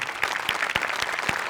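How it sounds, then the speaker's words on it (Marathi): A crowd claps enthusiastically in a burst of applause for the directors after a Marathi comedy skit on stage, dense and loud with no voices over it. "एकदा दिग्दर्शकांसाठी पण टाळ्या"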